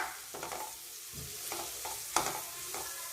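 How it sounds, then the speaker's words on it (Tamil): Onions stirred in a frying pan for an egg thokku, with a soft background sizzle and a string of spatula scrapes and taps at an uneven pace, close and fairly quiet with no talking. "வெங்காயத்தை மிக்ஸ் பண்ணிக்கலாம்"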